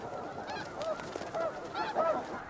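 Snow geese honking on open tundra, a few distinct nasal calls rising and falling over a steady murmur of a larger flock, fairly close and continuous.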